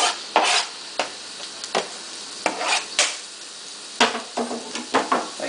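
Ginger and garlic sizzle in heating corn oil in a wok. Crackles and pops sound close and irregular, with occasional scraping stirs over a steady hiss.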